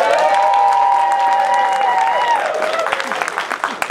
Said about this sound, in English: Let's hear a round of applause for each one.